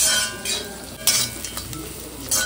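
Onions frying and being stirred in a kadai, a steady close sizzle with scraping strokes of a spatula and a few light metallic clinks, no talking.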